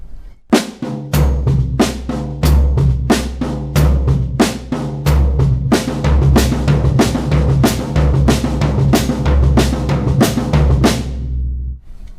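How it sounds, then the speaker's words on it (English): Drum kit exercise with the bass drum replacing the fourth note of each four-note group, played as fast, steady repeated strokes with low kick thumps, loud and close for about twelve seconds. "you put the bass drum as the 4th note instead of returning to the high tone."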